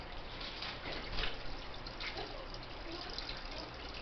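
Water poured onto the bare top of a log in a freshly set-up fish tank over gravel, a continuous close splashing and gurgling that runs without a break and swells briefly partway through.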